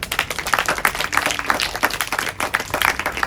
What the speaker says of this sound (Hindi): आप सब अपने लिए एक बार ताली बजाएं